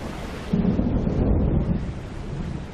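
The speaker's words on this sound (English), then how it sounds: "Within 2 hours of the meeting came the local community's worst nightmare, a Force 10 storm." A Force 10 storm over coastal Alaska sends out a deep, rolling rumble of thunder that swells and lingers across a bed of heavy rain, loud and fairly close with no voices.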